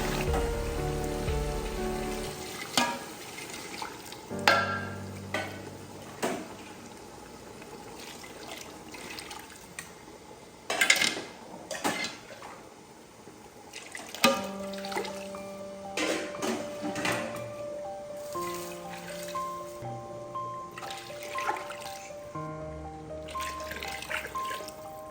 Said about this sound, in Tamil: ரெண்டு கிலோ அரிசிக்கு தேவையான அளவு தண்ணி நம்ம மெஷர் பண்ணி ஊற்றிட்டோம்